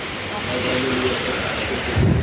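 Steady, loud wash of heavy rain fills the whole clip, with a deeper rumbling swell near the end.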